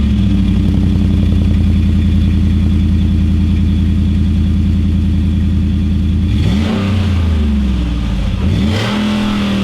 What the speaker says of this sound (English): I'll go around to the front now and give it some revs.